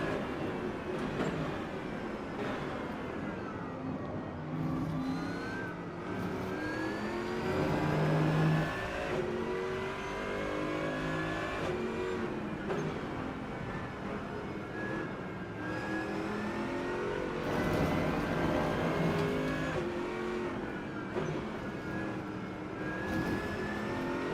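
AMG race car engine in the Rennsport racing game, a steady loud drone with rising and falling revs and gear changes running throughout, no talk.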